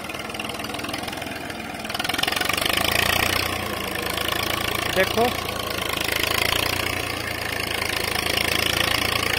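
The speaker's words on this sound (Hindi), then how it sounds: "अब देखो इसे पहले के हाई में चला के दिखाएगा, ढंग से टीलर गाड़ दी एक बार।" An IMT 533 tractor pulls a 9-tine cultivator tiller on worn tyres, its diesel engine loud and close, revving up and then labouring at a heavy, steady rumble while someone talks over it.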